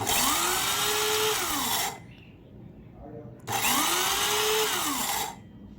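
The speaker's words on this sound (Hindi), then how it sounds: "हल्दी को हमने ग्राइंडर में डाल दिया, जिसमें ड्राई आइटम पीसी जाती हैं।" A dry-item electric grinder pulverising turmeric into powder, running in two loud whirring bursts of about two seconds each with a pause between, the motor pitch rising and falling at each start and stop.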